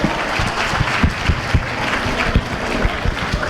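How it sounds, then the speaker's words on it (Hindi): An audience claps for the organisers at a live Hindi stage performance, the applause steady and fairly loud with a few sharper claps standing out, heard without anyone speaking over it. "एक बार जोरदार तालियां इनके लिए, आयोजक समूह के लिए एक बार बजा दीजिएगा"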